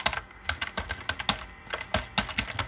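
Rapid, irregular keystrokes on a computer keyboard while writing Laravel 8 code, close and clear, with short pauses between bursts of tapping and no talking.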